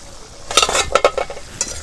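Fish fries in a pan for a spicy curry, a close, steady sizzle broken by several bright spattering crackles and pops, with no talking.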